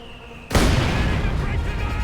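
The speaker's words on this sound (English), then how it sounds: "Lots of explosions." In a Company of Heroes 2 one-on-one match, a loud explosion bursts in about half a second in, then gives way to a sustained roar of artillery fire and blasts.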